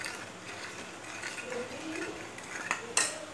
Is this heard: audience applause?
no